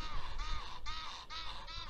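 Crows caw outdoors at a quiet lakeside spot, with four harsh, evenly spaced calls ringing out close and clear over faint background hush.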